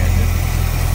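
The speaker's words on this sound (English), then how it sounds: "400 Pontiac engine." A 1967 Pontiac Firebird convertible's 400 Pontiac V8 idles up close, a loud, smooth, even low rumble with a steady pulsing beat.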